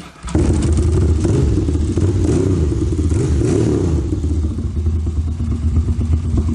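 A custom retro café-style motorcycle with a carburetted engine runs steadily and loud up close, a deep throbbing rumble with slight fluctuations throughout.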